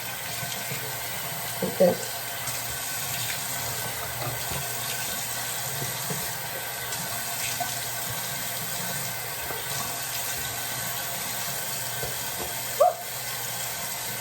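Steady running water from a tap fills the background throughout, with a couple of brief splashes as a face is rinsed with cold water, and a short spoken phrase.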